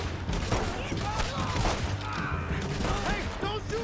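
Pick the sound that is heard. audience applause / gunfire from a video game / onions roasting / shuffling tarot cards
gunfire from a video game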